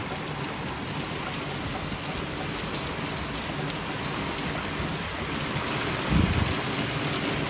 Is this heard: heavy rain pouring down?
yes